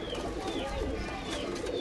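Pigeons in a rooftop loft make soft, low cooing over a steady, busy background of rustling and bird noise, close by and continuous with no speech.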